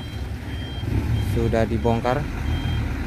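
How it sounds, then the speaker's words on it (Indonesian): An orange Fuso truck loaded with palm fruit reverses while towing a stuck truck, its reversing alarm giving two loud bursts of rapid beeps over a low engine rumble as people talk nearby. "dan akan ditarik juga sama truk bus oranye ini yang mundur"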